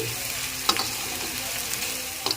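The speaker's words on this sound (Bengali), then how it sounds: "এখন পেঁয়াজ আর রসুন খুব ভালো করে ভেজে নিয়েছি" Onion and garlic frying in a pan, a steady close sizzle with a couple of brief scraping stirs, alone without talk.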